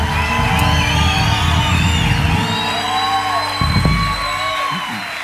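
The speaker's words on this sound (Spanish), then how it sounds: "aplaudale fuerte a él en esta noche" A worship concert audience cheers, whoops and applauds loudly and steadily over live Christian music, the crowd noise filling the whole stretch.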